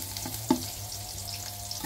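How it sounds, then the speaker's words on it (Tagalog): Garlic sautéing in a hot pan in a home kitchen, a steady bright sizzle with a few faint stirring scrapes, close and continuous with no voices. "So, mag-isa muna tayo ng garlic."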